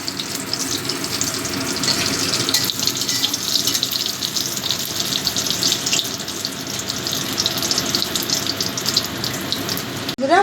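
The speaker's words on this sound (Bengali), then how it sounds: "এবার বড়িগুলো ভেজে নেব বড়িগুলো লাল লাল করে ভেজে নেব" Lentil dumplings (bori) frying in hot oil for a fish curry with potato and cauliflower make a dense, continuous loud hiss close by, steady for the whole stretch with no pauses or speech.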